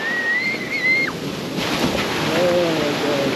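Rough sea waves churning at a beach in Baler, a steady loud wash of surf with wind noise, a whistle-like tone and a voice briefly heard above it.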